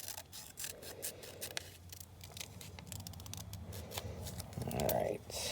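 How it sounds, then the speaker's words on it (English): Scissors snipping small paper pieces for a quilled collage portrait, a quick series of light close cuts over faint room noise and a soft voice in the background. "Do a little bit of trimming on her side of her face."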